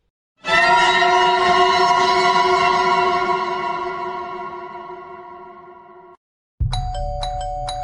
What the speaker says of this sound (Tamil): யாரோ காலிங் பெல் அடிக்கிறேன்.